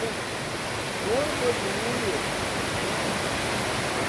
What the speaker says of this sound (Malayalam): ഇതാട്ടാ വെള്ളച്ചാട്ടം